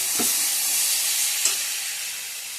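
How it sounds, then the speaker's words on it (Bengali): Potatoes frying in a hot pan with water just added give a loud, steady sizzle and steamy hiss throughout, with a couple of faint utensil knocks. "এই যে জল অ্যাড করে দিয়ে দেবো"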